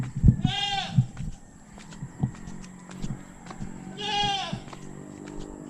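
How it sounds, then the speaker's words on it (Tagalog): Goats bleat in a place along a road where many goats gather: two loud, wavering bleats a few seconds apart, with soft hoof clops and shuffling between them. "Maraming kambing dito."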